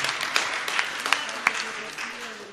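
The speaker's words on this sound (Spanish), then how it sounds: "Un aplauso a la sangha de Guadalajara y de México" Audience at a Buddhist retreat class applauding, a faint scattered round of clapping with a few sharper claps standing out, under quiet voices.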